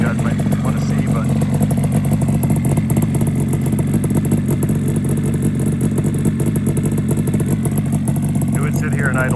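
A fully restored 1976 Yamaha RD400 motorcycle idles with a steady, rapid two-stroke burble and mechanical clatter, close and loud throughout.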